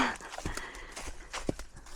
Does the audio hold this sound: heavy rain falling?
no